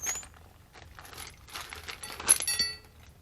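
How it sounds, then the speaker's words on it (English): Metal wheel studs for a 2000 Astro rear axle clink and jangle against one another as they are handled, a quick cluster of bright, close rattles and taps. "Putting my wheel studs in."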